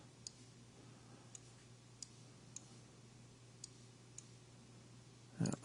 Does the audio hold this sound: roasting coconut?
no